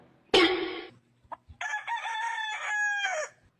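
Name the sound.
rooster crowing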